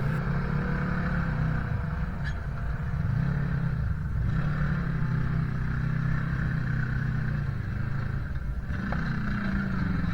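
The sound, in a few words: Kawasaki off-road vehicle engine at Sand Hollow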